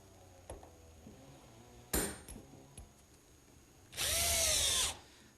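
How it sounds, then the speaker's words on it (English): Square chisel squaring up the rounded corners of a mortise in wood for a greenhouse build, heard as a few sharp knocks followed by a loud, steady whine lasting about a second. "Using this square chisel makes fast work out of squaring up each corner."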